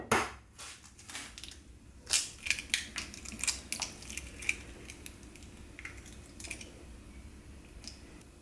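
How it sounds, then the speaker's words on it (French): Eggs cracked against a hard edge while making a cotton candy mousse, with sharp crunching snaps and small shell sounds in quick bursts, then quieter wet fiddling as the whites are separated, close and alone. "Maintenant, je vais casser mes œufs."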